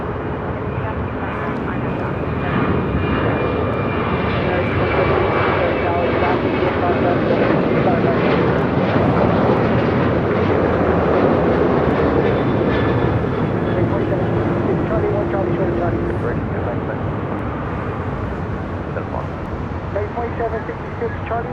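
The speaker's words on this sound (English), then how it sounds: "That was American Airlines Flight 1598 heading to Chicago O'Hare in a 737-800" An American Airlines Boeing 737-800 jet bound for Chicago O'Hare roars steadily and loudly as a broad, sustained engine rush at a busy airport, with faint radio chatter under it.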